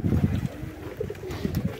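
Pigeons coo softly in low, throaty rolling phrases, close by and repeating, with no one talking.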